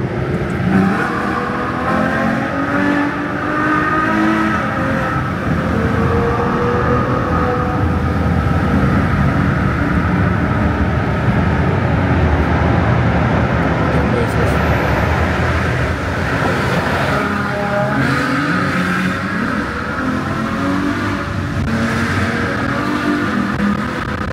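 A loud, continuous Ferrari V12 engine roar from inside a moving car, building and surging as it accelerates, with road and wind noise underneath.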